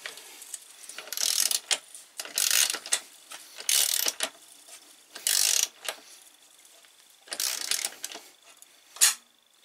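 A torque wrench tightens the rear wheel of a BMW R1200RT motorcycle in a series of loud, close ratcheting bursts separated by short pauses, ending with a sharp click.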